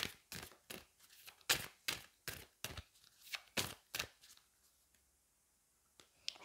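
Tarot cards being handled and drawn, a close, quiet series of crisp snapping card slaps at an uneven rhythm, fading into near silence with one last soft flick.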